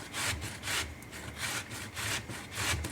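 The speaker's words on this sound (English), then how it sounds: "You just go ahead and grate the whole zucchini up." A whole zucchini is rubbed back and forth on a hand grater in a kitchen, giving close, rhythmic rasping strokes about twice a second with no talking.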